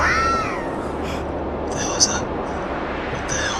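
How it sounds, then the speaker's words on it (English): A cat yowls in an old paranormal recording, with drawn-out wavering cries rising over a steady low hum while people talk over it in alarm. "That's a cat, right?"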